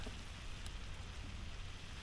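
Steady rain patters down, a soft continuous hiss of drops on a surface with no voices, even and unbroken throughout.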